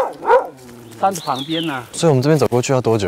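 A dog barks once or twice on a mountain path near a tribal village, on the way to a hot spring, heard briefly and close by as people keep talking over it.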